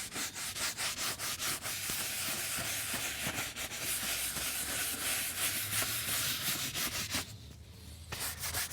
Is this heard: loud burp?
no